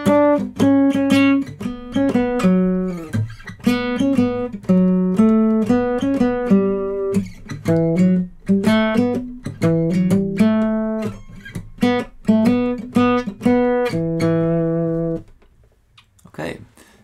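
An electric guitar plays a melody in repeated plucked notes, sustained and slightly distorted, continuing for about fifteen seconds before fading out.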